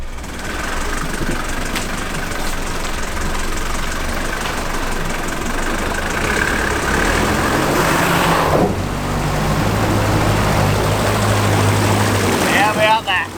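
Old Yella, an old 4WD with no snorkel, drives back through a water crossing in Cape York. The engine drones steadily, and a surge and rush of water builds near the end. Voices talk throughout.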